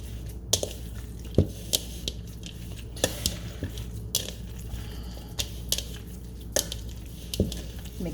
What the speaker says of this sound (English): I am going to mix this by hand